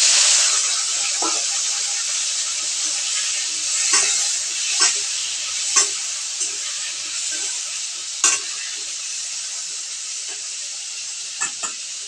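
Potatoes sizzle and hiss in hot oil in a pan, a continuous bright frying noise punctuated by occasional soft clinks and scrapes of stirring, close and without talk.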